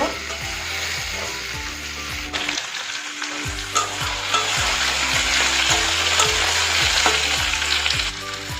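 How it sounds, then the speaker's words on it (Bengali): Potatoes and onions frying in a pan at home, a steady loud sizzle throughout with a rhythmic clatter of stirring, briefly dropping out mid-clip before resuming strongly. "দেখো ভালো করে আলু আর পেঁয়াজটা ভেজে নেব।"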